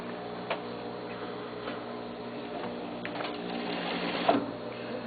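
A sewing machine stitches a sleeve seam with a quiet, quick ticking patter from the needle, steady and close, that runs the whole time with no talk.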